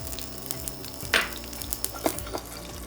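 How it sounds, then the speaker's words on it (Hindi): Green chillies hit smoking-hot mustard oil and sizzle in a pan, a close, crackling fry with sharp spits and pops and a few stirring clatters over about three seconds. "जैसे मस्टर्ड ऑयल स्मोक हो जाए उसके अंदर सीधा डालेंगे हरी मिर्च।"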